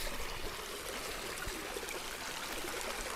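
Small mountain stream flowing in a Trabzon highland, a steady close trickling rush of water, even and unbroken.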